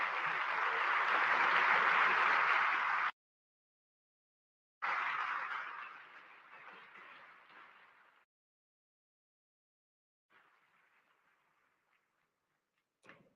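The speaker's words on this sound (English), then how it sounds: "Let's give them a round of applause" Audience applause at the International Olympic Committee session inauguration in India: a loud, dense burst of clapping that stops abruptly, then a second round that fades out, followed by a brief faint patter.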